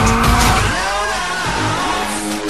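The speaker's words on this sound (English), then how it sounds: "The goal here is to find the perfect amount of counter steer and throttle to maintain the drift." Nissan S13 drifting in a circle around a pole in Shift 2 Unleashed, with a loud, steady engine roar and sustained tire squeal that shifts in pitch as the car holds its slide.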